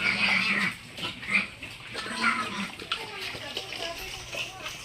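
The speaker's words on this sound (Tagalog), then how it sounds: "Oh, ganun talaga ang baboy. Nag-aagawan ng pagkain." Young weaner pigs grunt and squeal while jostling over wet feed in a pen, a busy chorus of snorts with splashing, sloshing sounds, and someone speaking intermittently nearby.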